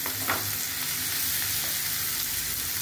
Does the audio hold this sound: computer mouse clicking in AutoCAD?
no